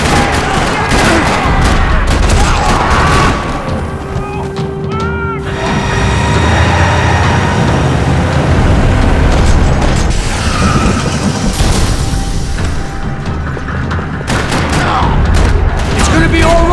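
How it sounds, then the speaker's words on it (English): Dense Max Payne 3 gunfire in a parking lot rattles almost nonstop, bursts of rapid shots and booms layered with mechanical clanks and crashes, loud and close. "Another parking lot rattling with gunfire."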